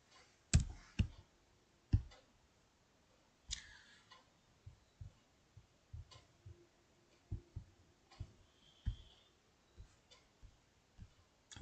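Sparse computer mouse clicks, single and paired, come close and quiet against a faint room hush, spaced irregularly over several seconds.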